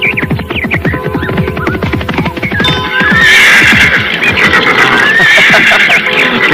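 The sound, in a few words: horse neighing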